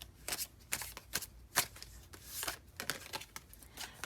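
A deck of tarot cards being shuffled in a quiet room: repeated soft riffling bursts and papery flicks, close and fairly faint, with no voices.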